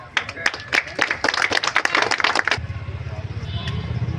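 Applause from an audience at an official irrigation staff meeting, a burst of scattered clapping lasting a couple of seconds before dropping to a low murmur of room noise.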